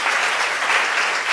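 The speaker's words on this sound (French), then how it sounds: "Une main d'applaudissement pour nos intervenants et intervenantes." An audience at an evening talk on the circular economy claps steadily and densely for a brief moment, a crowd of hands applauding together with no voices.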